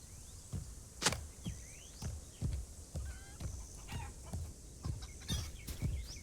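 Chicken clucking in The Lord of the Rings Online, a string of sharp rhythmic clucks and squawks repeating about every half second, close and fairly loud over a quiet game background.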